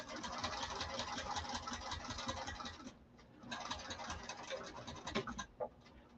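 Sewing machine stitching a bag lining, a steady close mechanical whir that runs for about three seconds, pauses briefly, then resumes before stopping with a couple of small clunks.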